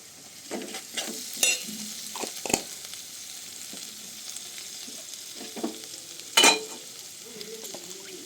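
Homemade ginger paste mixed with salt and turmeric sizzles in a hot pan, a quiet steady fry punctuated by several sharp scraping and clinking stirs, close, without any speech.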